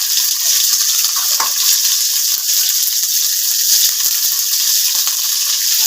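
Cauliflower florets fry in a pan of hot oil with a loud, steady sizzle, and scattered spatula scrapes and clicks break through it from start to finish.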